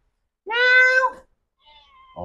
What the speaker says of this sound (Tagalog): yung pusa naming makulit